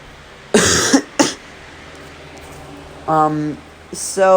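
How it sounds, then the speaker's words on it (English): Several harsh coughs from a person with a bad cold, a pair of sharp bursts close together, then a pause, a voiced throat-clearing sound and a final cough, all close and loud with no talking. "sorry if I cough a lot. I'm pretty sure I have a pretty bad cold"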